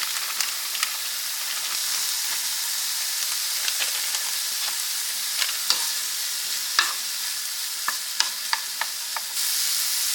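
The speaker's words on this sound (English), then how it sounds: "Since I've got my peppers and onions started cooking, I'm going to take my already cooked ground beef" Peppers and onions frying in a pan with cooked ground beef added, giving a steady close sizzle broken by sharp scrapes and stirs from a utensil, with no talking.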